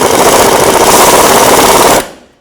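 A power tool with a 13mm socket tightens the front shock absorber bolts on a 1997-01 Jeep Cherokee, giving a loud, close, rapid hammering rattle that runs for about two seconds and then cuts off abruptly.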